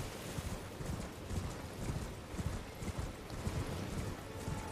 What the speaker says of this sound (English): I don't know why I jumped on my horse then.